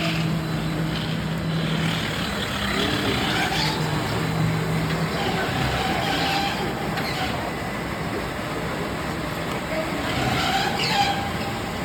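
A Tennant Speedscrub rider floor scrubber double-scrubs a very dirty floor with its vacuum down, producing a steady, loud motor drone with whirring and a faint tonal hum that barely changes across the stretch.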